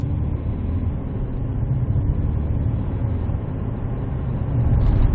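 A car accelerating steadily after a U-turn, a smooth low engine drone heard from inside the cabin, building slightly louder near the end, with no talk.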